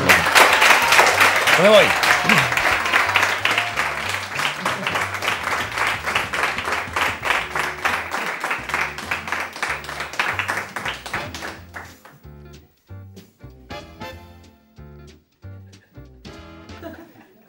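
Applause from a Spanish television show's studio audience, loud at first with a voice and laughter over it, then thinning into sparse rhythmic claps with music underneath.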